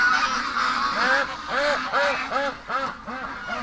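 A pet duck being picked up and handled gives a close, steady run of loud, nasal honking quacks, about two each second, with a few brief louder calls near the start.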